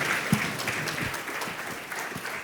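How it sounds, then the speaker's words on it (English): An audience at a food and nutrition summit panel applauds together, a steady wash of clapping with a few sharper near claps standing out, continuing without voices. "Big round of applause."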